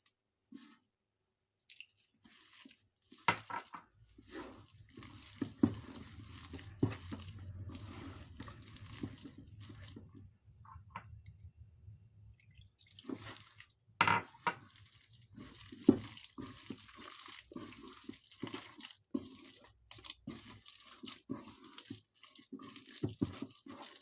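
Water trickles and splashes in small pours while being stirred gradually into corn fritter batter, with soft clinks and scraping of mixing between quiet gaps.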